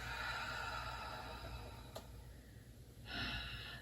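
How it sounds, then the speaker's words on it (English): A long exhaled breath during a yoga practice, a soft steady airy rush that fades, then a brief fresh breath sound near the end, close and quiet with no speech. "And a long breath out."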